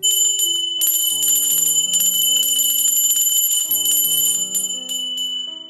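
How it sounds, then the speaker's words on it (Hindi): A small metal puja bell rings continuously during a Hindu worship offering, a bright, sustained clanging with layered ringing tones, close and loud with no talk. "इस प्रकार से आप ना घंटी भी साथ में बजाना"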